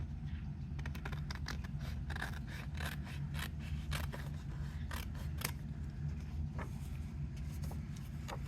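Scissors cutting out a paper card, a run of short crisp snips and scrapes close by over a steady low background hum, with no talking.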